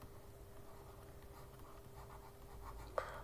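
Chalk or marker writing on a board during a math lesson, faint scratchy strokes in quiet room tone, with a brief louder tap near the end.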